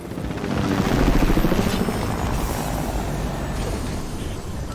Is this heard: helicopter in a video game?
yes